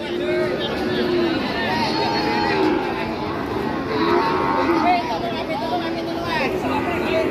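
Ongole (PO) cattle, heifers and calves at a busy Indonesian cattle market in Jatirogo, Tuban, with steady crowd chatter and hubbub throughout and faint, occasional livestock sounds mixed into the din.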